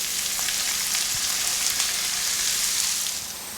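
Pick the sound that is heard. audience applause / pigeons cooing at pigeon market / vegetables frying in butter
vegetables frying in butter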